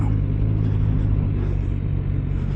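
A 2024 Suzuki GSX-R 600 with its factory exhaust drones steadily and loudly. Its deep, even engine rumble runs unbroken for a few seconds while the rider is underway, with no voices over it.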